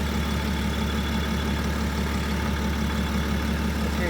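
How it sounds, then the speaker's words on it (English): A BMW car engine idles steadily with a low, even rumble, close and constant with no other sounds. "now that the engine's running again"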